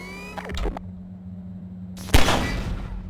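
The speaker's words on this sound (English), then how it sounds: "take out the firearm of your choice and shoot the device" Gunfire from a player's firearm in Half-Life 2: Episode Two, aimed at a device on a Strider: a sharp, loud burst that trails off in a noisy rumble, preceded earlier by a brief clattering sound over a steady low hum.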